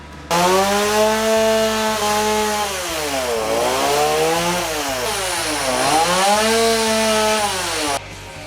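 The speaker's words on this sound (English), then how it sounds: "Now we're going to use the chainsaw bar to brush" A chainsaw carving a wooden bear runs continuously up close, its engine pitch rising and dipping as the blade bites into wood, loud and steady without speech.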